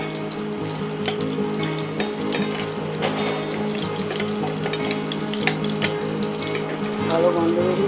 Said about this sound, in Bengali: ছোলে মশলা, ছোলে, পনির, আলু মশলা ওতে ঢেলে দেব।